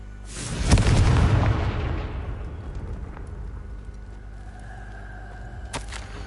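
A Confringo blasting spell detonates in Hogwarts Legacy, a single loud, deep boom inside a stone maze that rolls off into a long, fading rumble, with a faint later crackle.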